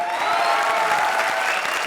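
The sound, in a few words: audience applause for the finale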